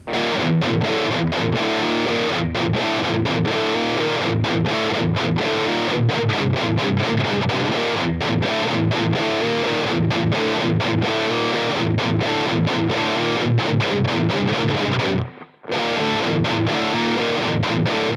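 A distorted electric guitar in standard tuning plays the driving main riff of a song, repeating chugging chords, loud and continuous, with a brief gap near the end.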